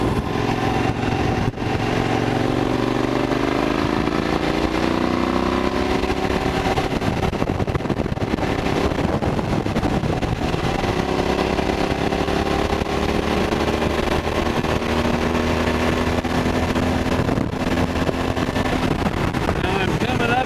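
A Suzuki V-Strom motorcycle engine hums steadily while riding along the Kern River, with heavy wind rush on the helmet camera and the rider talking over it throughout.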